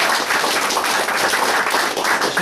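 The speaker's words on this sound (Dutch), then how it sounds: "Een applaus, jongens." An audience claps in sustained, even applause at a gathering in The Hague, dense and continuous throughout at close range with no voices standing out.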